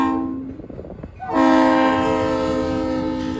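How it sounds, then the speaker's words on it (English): Freight train locomotive number 3335 blasting its RS3L air horn, a loud, steady multi-tone chord that begins after a short lull and sustains near and strong, with rail rumble underneath. "3335, sporting a perfect RS3L horn"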